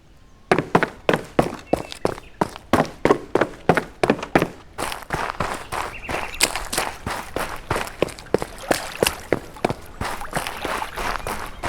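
Footsteps for a game built in Unreal Engine 5 with FMOD, sharp evenly spaced steps at first, then quicker, denser steps over a faint background bed, close and clear.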